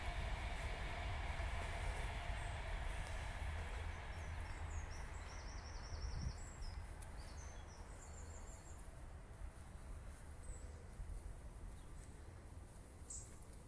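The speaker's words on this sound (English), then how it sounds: "You can hear the train going past." A train rumbles past a cemetery in Nuneaton, Warwickshire, steadily for over ten seconds, a low continuous roar with faint high squeals and clicks from the wheels, fairly distant.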